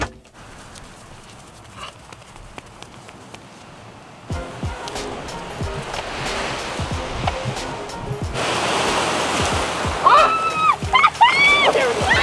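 Cold ocean surf on the New England coast, with broad washing waves that build and grow louder, closer breakers rushing in over the last seconds, and no talk heard.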